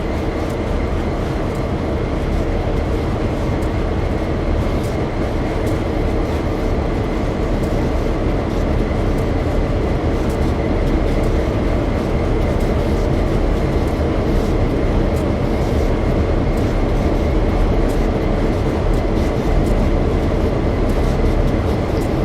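A constant, loud rumbling drone of a video-game freight train on the 1970s Clinchfield railroad in Train Sim World 2, steady throughout with no breaks, like an engine idling or rolling nearby.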